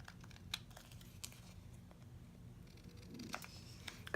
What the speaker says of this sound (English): now I can go ahead and cut off the two ends